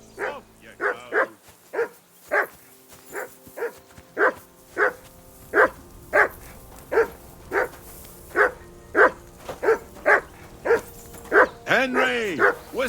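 A dog barks repeatedly in Kingdom Come: Deliverance 2, sounding close and loud in a steady rhythm of about twenty sharp barks, ending with a higher whining yelp.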